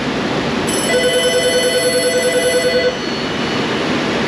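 A telephone in an auto repair shop rings with a bright electronic trill lasting about two seconds, loud and clear over a steady background hum of the workshop.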